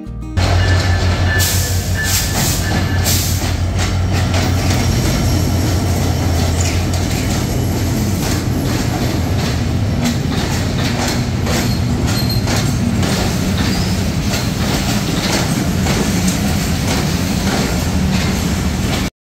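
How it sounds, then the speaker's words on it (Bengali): A Barendra Express train rolls into Natore railway station in Bangladesh with a loud, steady rumble of wheels on rails, rattling carriages and occasional metallic clanks throughout. "কিছুক্ষণের মধ্যেই আমাদের ট্রেনটি চলে আসে"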